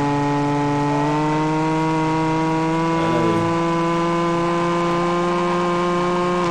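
A car engine in the mobile game Car Parking Multiplayer drones loudly and steadily at a high idle, with a brief pitch dip midway before settling back into the same sustained roar, no voices.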